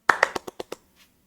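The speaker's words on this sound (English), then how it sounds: "Golf clap." A single person gives a slow golf clap, six light, evenly spaced hand claps fading slightly in strength, close and alone with no talk over them.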